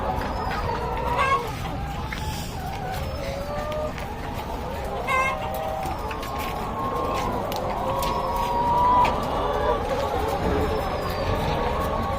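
Layer hens cluck and chatter steadily on a poultry farm, a dense flock sound. Faint voices speak now and then under the birds.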